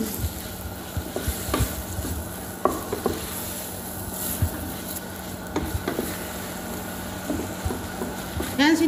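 Mixed vegetables with onion cook in a pan, giving a soft sizzle with scattered stirring and scraping knocks, under someone talking throughout.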